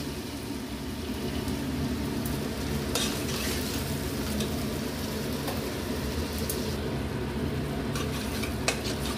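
A soaked paste of salt, turmeric and chili hitting a hot pan with cooked tomatoes, giving a steady, moderate sizzle with some stirring scrapes and a few sharper clicks throughout.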